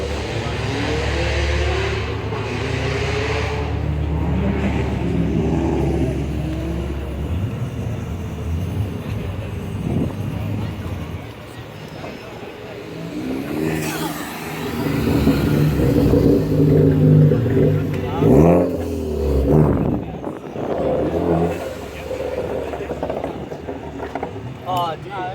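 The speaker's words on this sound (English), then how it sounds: "did you hear the backfire?" A heavily modified Mazda Protege revs hard at a Saturday night car meet, its engine roar rising and falling with sharp pops and backfire cracks, loud and close amid crowd noise and people talking.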